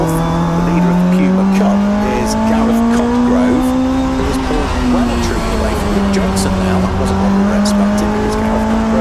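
Touring race cars lapping at Brands Hatch, a loud sustained engine drone with shifting pitch and occasional tyre squeal, while a commentator talks over it.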